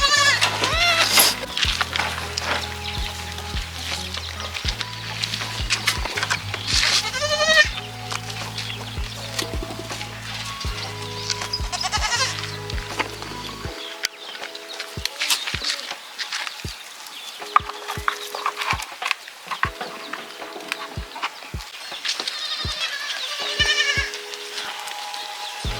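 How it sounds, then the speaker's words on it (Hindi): Goats bleating while they eat: repeated bleats rise over a tonal, music-like background in the first half, then over quieter stretches with crisp clicks and crunching of feed. "जैसा कि आप लोग देखें बकरी कितने चाव से खा रही थी।"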